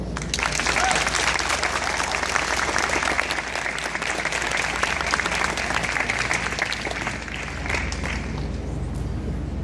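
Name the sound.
applause for graduates at a graduation ceremony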